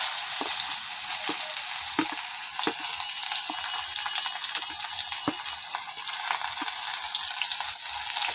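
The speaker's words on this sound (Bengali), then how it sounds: "পেঁয়াজটা একটু ভাজা ভাজা হয়ে গেলে" Chopped onion frying in hot oil, a continuous close sizzle broken by regular scraping and stirring knocks, with no talking.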